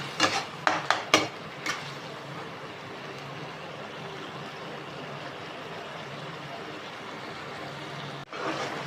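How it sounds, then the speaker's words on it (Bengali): A mustard paste mixture frying over high flame for a Bengali fish curry, with a few sharp clinks of a utensil against the pan at the start, then a steady low sizzle. "ভালো করে নাড়তে থাকবো, কেননা যাতে নিচে না লেগে যায়।"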